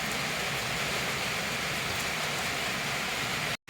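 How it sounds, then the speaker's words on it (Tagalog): Heavy rain pours in a dense, steady roar close by, hissing without pause before it cuts off abruptly at the end. "napakalakas ng ulan"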